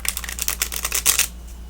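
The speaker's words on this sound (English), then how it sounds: "Let's do some shuffling." A tarot deck, slightly smaller than a standard deck of playing cards, is shuffled by hand in a quiet room, giving a rapid flurry of close, crisp card riffles that stops abruptly near the end.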